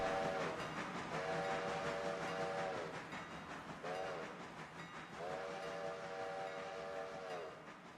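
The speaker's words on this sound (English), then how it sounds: "The old coal train's working its way up the grade." In the train simulation game Railroader, an old coal train works its way up a grade, its steady chugging rumble joined by repeated long whistle blasts, loud and near, with no voices.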